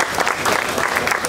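An audience applauds at the Rebel Salute 2015 reggae festival media launch in Kingston, a brief, steady patter of many hands clapping at close range.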